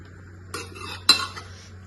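Metal spoon scraping and clinking against dishes as rice and vegetables are served at home dinner, two distinct clattering bursts close by in a quiet room with a steady low hum.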